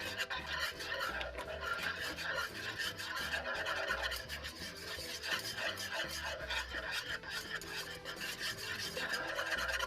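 Sugar-free ice cream base being stirred in a Dutch oven over medium-low heat, heard as a steady, continuous rasping scrape of a utensil against the pot, close by and without talk.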